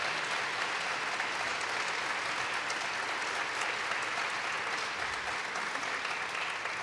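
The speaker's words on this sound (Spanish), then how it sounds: "Por aquí pido un aplauso muy fuerte" Loud, dense applause fills a concert hall after a jazz duet performance, an even unbroken roar of many hands clapping at once with no voices above it.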